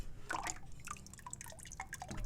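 Ceramic glaze drips and patters from a pot back into liquid, a quick irregular run of small close drops and splashes.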